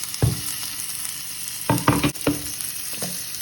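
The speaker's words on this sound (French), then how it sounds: "Je vais maintenant ajouter les morceaux de poivre à beurre" Bell pepper pieces fry in a hot pan alongside browned leeks, giving a steady sizzle broken by several loud clattering stirs and scrapes of a utensil against the pan; no one speaks.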